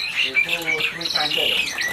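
A Sri Kantil songbird calling at a kiosk in the Pramuka bird market, bright high chirps and warbling whistles in a steady run, close and fairly loud, with no talk over it.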